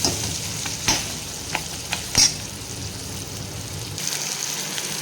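Chopped onion fries in oil and spice masala with a crackling close sizzle, broken by a few sharp clacks and scrapes from stirring.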